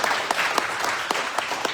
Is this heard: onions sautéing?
no